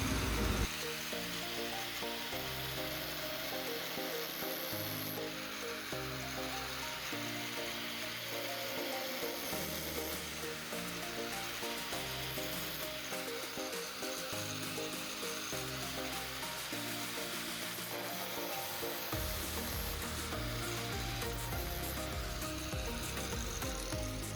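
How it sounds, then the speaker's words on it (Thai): A hacksaw rasps through steel pipe in rapid back-and-forth strokes, cutting a groove, steady and close, with a brief pause partway through before the sawing resumes. "ใช้เป็นเลื่อยนะครับเป็น เลื่อยตัดเหล็กนะครับเลื่อยตัดแป๊บนะครับ"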